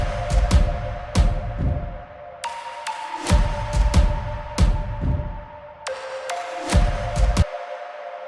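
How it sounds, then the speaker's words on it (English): Cinematic orchestral drums from a music production pound in deep, booming hits that come in clusters. Sustained reverberant synth tones ring above them and continue through the pauses. There is no talking. "And the orchestral drums sound like this."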